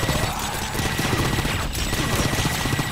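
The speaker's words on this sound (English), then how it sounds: "Gives me a barrage of what I assume are rivets." A rivet gun barrage in the video game Painkiller, fired by a dock worker enemy: a dense, rapid, continuous clatter of shots at steady loudness, with no voices.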